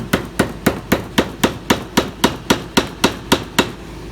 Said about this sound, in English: These pins simply tap in